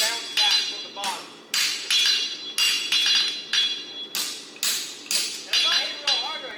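Steady rhythmic hammer blows ring out on an anvil while forging hot-fit blacksmith tongs, about a dozen sharp metallic strikes, each followed by a brief ring, moderately loud and close.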